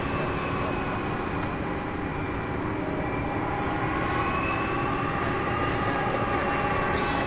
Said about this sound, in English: these planes are going to be loud. We've got the microphone pointing right to these aircraft, and these engines do get loud.